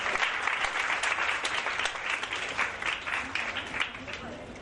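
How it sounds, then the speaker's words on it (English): An audience at a Montessori training lecture applauds a lecturer, with fairly faint, continuous clapping from many hands in a room and a few claps standing out. "So once again, clap for Ma'am Nadia."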